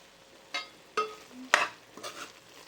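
A spoon stirs cooked minced mutton keema with fresh coriander in a pan, giving a few separate scraping strokes with a faint sizzle in between.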